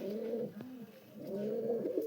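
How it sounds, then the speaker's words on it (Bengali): A biscuit-coloured Urdu pigeon coos in two drawn-out, throaty bursts separated by a short pause, close and clear with no talking. "এই একটা বিস্কুট কালারের পায়রা দেখুন, আমাদের এখানে উর্দু পায়রা বলে"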